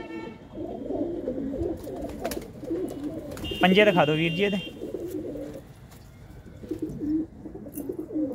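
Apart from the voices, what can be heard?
pigeons cooing in a net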